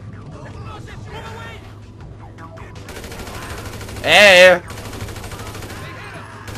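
Rapid bursts of gunfire in GTA V Online rattle along under a voice, with one loud shout breaking in midway.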